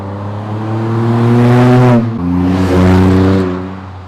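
A car fitted with a Magnaflow exhaust muffler revs loudly and close, its engine note climbing, dipping briefly, then rising again in two strong, sustained pulls with no talking.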